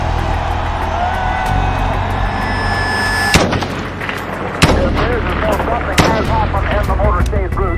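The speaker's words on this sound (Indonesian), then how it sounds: "Presidennya, John F. Kennedy, ditembak 3 kali di Dallas, Texas, Amerika." Gunshots as a Kennedy assassination sound effect, a few sharp loud cracks spaced over several seconds, set over a dense, busy background.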